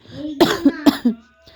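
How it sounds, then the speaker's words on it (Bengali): A woman with a heavy cold and a sore throat coughs four times in quick succession, loud and close, with a rough, throaty quality and a brief quiet gap afterward. "ভয়েস দিতে দিতে এত কাশি হচ্ছে কি বলবো"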